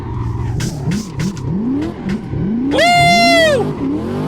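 Chevrolet Corvette C6 drifting in the Assetto Corsa racing game, engine revving and bouncing off the limiter, then a sustained rising tire squeal as the car slides at a handbrake-assisted angle, loud and close.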